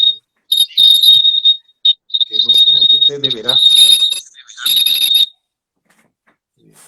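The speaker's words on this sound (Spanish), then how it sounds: "un pitido" Loud, piercing electronic beeping like a smoke alarm sounds in repeated bursts over a live stream, with someone speaking Spanish under and between the tones before it falls silent.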